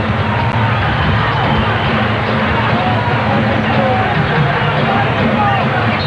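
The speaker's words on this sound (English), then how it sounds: "Spike Lee also hearing the boos from the crowd" Arena crowd at a Knicks versus Heat NBA basketball game in 1997, a loud sustained roar of booing and crowd babble filling the building without a break, with a commentator's voice underneath.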